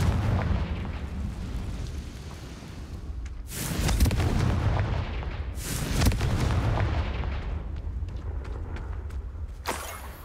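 Confringo fire-blast spells exploding in Hogwarts Legacy, with three loud bursts at intervals over a steady rumbling game backdrop.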